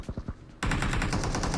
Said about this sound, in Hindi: ये लोग गोली गोली चला रहे मेरे पे